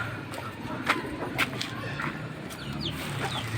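Farm chickens cluck nearby in short, scattered calls over a low background rumble, with a few sharper squawks spread across the moment.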